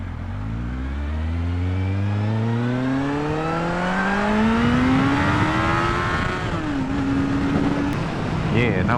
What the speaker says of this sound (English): And now the bike is really quiet.